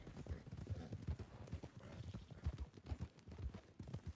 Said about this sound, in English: that's a Missouri foxtrotter right there.